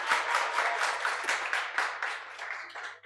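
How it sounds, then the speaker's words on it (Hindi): Students in a classroom applauding together, a close, dense burst of rapid clapping that holds steady for several seconds before tapering off at the end. "तुम्हारा ताली बजाना शौक है कि आदत?"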